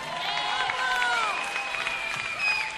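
Concert crowd applauding a band, dense clapping and cheering mixed with sustained musical tones and voices, loud and close throughout.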